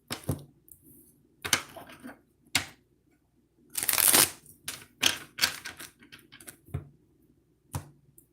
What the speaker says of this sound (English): One shuffle.